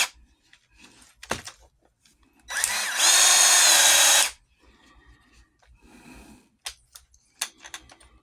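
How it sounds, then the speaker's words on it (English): A power drill whines through saddle leather in one loud burst of about two seconds, surrounded by quieter handling clicks and taps in a workshop. "So let me get my drill"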